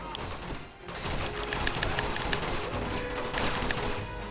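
Sustained rattling automatic gunfire in the Uncharted 2 video game, rapid continuous bursts with sharp individual cracks, loud and close throughout, without any speech over it.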